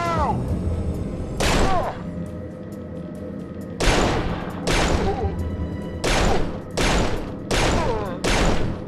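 Gunfire from an original Xbox video game comes in repeated loud bursts of rapid shots, several volleys separated by short pauses, with game sounds and a voice in between.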